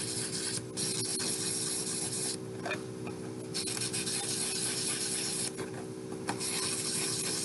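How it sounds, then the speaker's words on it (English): Steady scratchy rubbing of folded sandpaper sanding in little circles on a jewelry necklace piece, continuous with brief pauses, close and fairly quiet. "sand in little circles"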